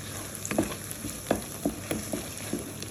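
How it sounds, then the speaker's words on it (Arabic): Eggplant, peppers and tomato being sautéed in a pan give a steady background sizzle with several sharp stirring clicks and scrapes spaced through it, close and moderately loud, with no talking. "اهو يا بنات بديها تشويحه بقى معاها كده."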